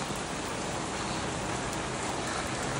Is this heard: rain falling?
yes